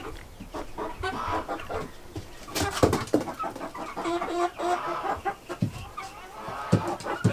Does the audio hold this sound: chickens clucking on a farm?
yes